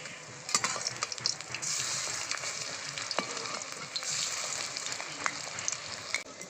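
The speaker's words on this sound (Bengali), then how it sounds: "আমি উল্টে পাল্টে ভেজে নেব" Fish pieces frying in hot white oil give a steady bright sizzle with scattered pops and crackles, close and unbroken throughout.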